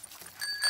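A bicycle bell on Peppa's bike in a cartoon gives a quick, bright, high ring that is brief and light and stands alone.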